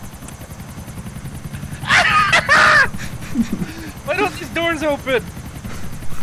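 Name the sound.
helicopter in the video game GTA IV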